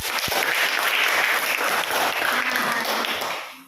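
A classroom full of students applauding, dense and sustained clapping up close that carries steadily for several seconds before tapering off at the end.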